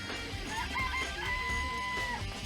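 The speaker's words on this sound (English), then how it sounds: "I remember there were some chickens in the chicken coop." Chickens in a coop from the game Danganronpa make a rooster-like call, a drawn-out tonal cry over a dense, noisy background of game sound.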